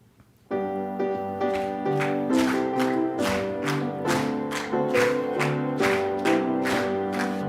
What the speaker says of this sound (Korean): 우리 함께 박수 치면서